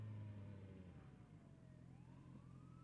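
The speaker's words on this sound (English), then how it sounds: "doggone fire truck." A fire truck siren wails somewhat distantly as a slow rising and falling tone, partly masked by a steady low engine rumble from a motorcycle ride.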